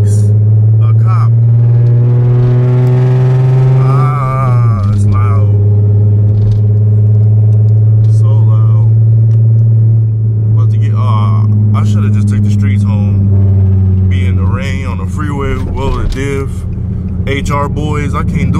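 Nissan 350Z fitted with a Tomei exhaust driving on a wet road, a loud steady low drone that shifts pitch as the car revs, close and dominant, with people talking over it.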